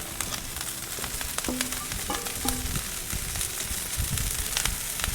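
Cabbage sizzling on an oiled Blackstone griddle, a steady crackling fry with scattered pops and a few brief clinks, fairly quiet and with no voices.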